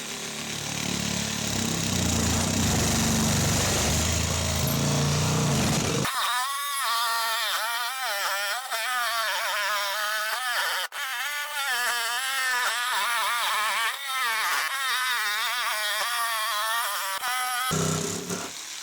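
A power tool plunge-cutting holes into the end pieces of a homemade microhydro waterwheel: a loud, rough grinding burst for the first few seconds, then a sustained high, wavering motor whine that cuts out near the end.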